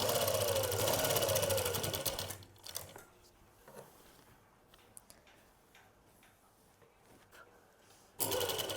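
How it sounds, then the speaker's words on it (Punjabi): A sewing machine stitches a sleeve seam on garment fabric, running loud and steady for about two seconds before the motor stops. Quiet handling sounds follow, then another short burst of stitching starts near the end. "ਹੁਣ ਆਪਾਂ ਇਹ ਸਲਾਈ ਲਗਾਉਨੇ ਆ"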